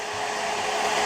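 A cheap low-wattage hot air gun of about 1141 watts blows continuously, a steady hair-dryer-like whoosh with an even motor whine, close and unchanging.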